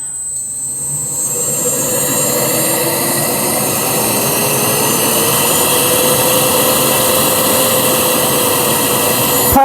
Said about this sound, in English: let's get this vacuum motor running, shall we?